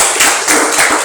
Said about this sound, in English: Can you clap for sir, everybody?